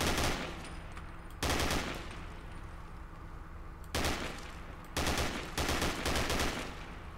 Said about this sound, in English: I think this might require something with a little more firepower, aka a fucking machine gun